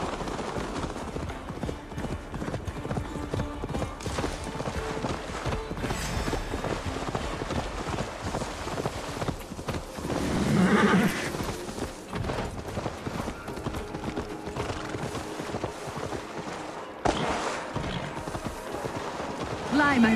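Horse hooves clip-clopping at a gallop in the Viking-era game Assassin's Creed Valhalla, a steady loud rhythmic beat running throughout beneath spoken dialogue and mechanical rumble.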